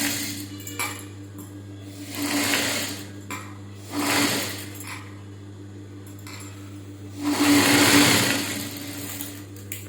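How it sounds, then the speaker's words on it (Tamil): A sewing machine stitches a fabric seam on a petticoat or baby frock, running in bursts of rapid needle clatter over a steady motor hum, separated by short pauses, close and fairly loud. "விரித்து வச்சு தையல் போடுறேம்மா"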